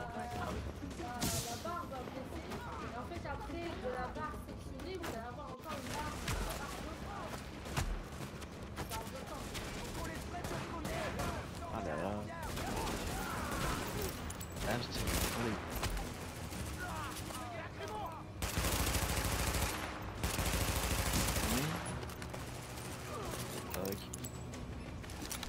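Grenade launcher fire and explosions in the online co-op shooter The Division, dense bursts of gunfire and blasts running throughout with louder booms near the end, under constant talk from players.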